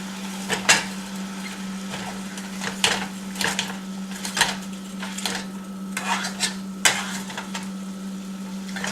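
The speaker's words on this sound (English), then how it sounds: "Now the key, potato masher." A potato masher works through taco meat in a pan, giving a string of irregular clanking and scraping hits against the metal under a steady low hum, with no talking.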